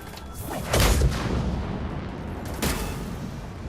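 Gunfire in Mass Effect 3 combat: dense, loud bursts of shots and booms over a constant battle rumble, with two heavier blasts standing out.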